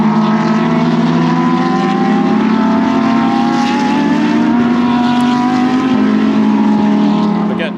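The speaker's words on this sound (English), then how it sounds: "Safety cars are annoying in races this short because the cars are no longer going at speed" Race cars at Laguna Seca roll past at reduced pace behind a safety car, a loud steady engine drone with overlapping tones from several cars, close by and continuous.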